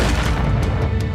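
Massive explosion in a space-themed PC shooter, a dense continuous low rumble of booms with scattered bursts, loud and close throughout.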